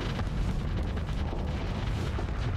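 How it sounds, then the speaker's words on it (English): Torpedoes launching in the Starsector space combat game, heard as a continuous heavy rumble of booming, explosive bursts that fills the whole stretch at steady loudness with no pauses. "Fire the torpedoes!"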